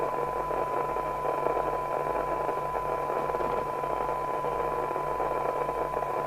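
A steady continuous test tone from a UK FM CB radio receiver during sensitivity alignment, heard alone through a faint hiss without any talk.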